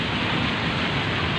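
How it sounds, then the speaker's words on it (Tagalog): Steady rain falling beside the Pasig River in Hulo, Mandaluyong, a loud, continuous broadband hiss of drops with no breaks and no voices. "Basang-basa na ng ulan."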